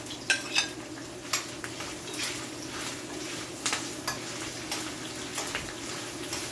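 Sweet pepper and thyme frying in a pan for a Jamaican saltfish cook-up, a soft, close sizzle with intermittent clinks and stirring scrapes of a utensil against the pan, no talking.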